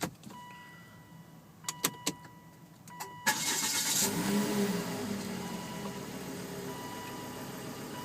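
A 2011 Volvo S40 T5 cranks and fires after a few sharp clicks, settling into a steady, fairly loud idle close by.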